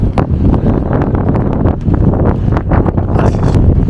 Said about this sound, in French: Ah, il y a un vent de malade.